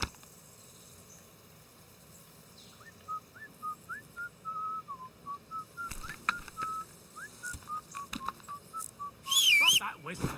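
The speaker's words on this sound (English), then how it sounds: "Stop that whistling." A character whistles a wandering tune in the medieval video game Kingdom Come, faint and steady, with soft game ambience behind it and a brief, louder higher whistle near the end.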